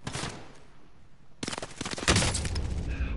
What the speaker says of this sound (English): Oh, he's shooting us.